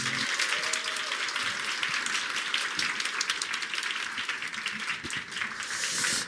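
An audience in a lecture hall applauds to welcome a speaker, a steady, fairly loud stream of many hands clapping that carries on without a break.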